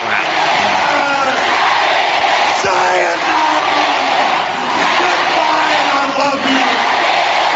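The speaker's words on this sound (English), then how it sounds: "Listen to that crowd." A Japanese wrestling arena crowd keeps up a dense, loud roar of cheering, with a sharp impact near the middle and voices mixed in the din.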